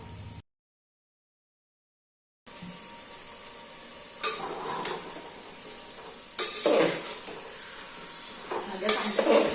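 Carrot and cauliflower pieces coated in masala are sautéed in a pan on a gas stove for masale bhaat, with a steady hiss of sizzling and several clinking spoon stirs against the pan.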